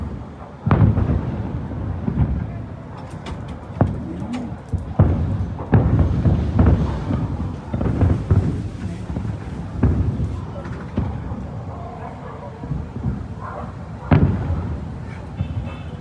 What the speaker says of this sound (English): Hay un bombardeo.